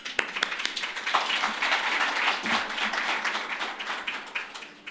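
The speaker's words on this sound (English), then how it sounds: "So give us some applause, please." An audience at a small business roadshow breaks into sustained applause, dense overlapping clapping from a crowd that holds steady for several seconds before beginning to thin out.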